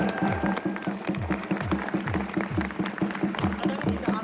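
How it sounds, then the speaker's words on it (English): Crowd applause at a street protest against police brutality in Seattle, outdoor clapping and cheering with a rhythmic, repeating low thumping beneath it and voices mixed in. "let's just give them a round of applause"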